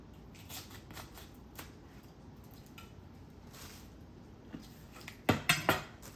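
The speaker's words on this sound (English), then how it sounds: "chopping out the bulk of the stem." A knife crunches through a cauliflower on a cutting board, cutting out the stem, with faint scraping followed by a quick burst of three or four sharp, close cuts.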